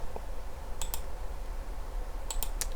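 Keys are tapped on a computer keyboard to enter a value into a measurement box in SketchUp Free. There is a short burst of two crisp clicks, a pause, then a quick cluster of three or four more clicks, close and fairly quiet over a faint room hum.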